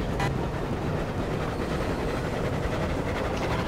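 Train in Battlefield 1 on the Sinai Desert conquest map, a dense, loud, unbroken mechanical rumble that holds steady throughout with no voices.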